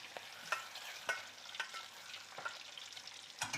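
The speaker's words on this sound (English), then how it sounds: "and mix it all" Fish is mixed with lemon juice in a pan, giving quiet scraping and stirring clicks every half second or so over a faint background hiss, close but soft.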